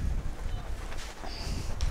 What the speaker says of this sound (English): it's rainy and it's windy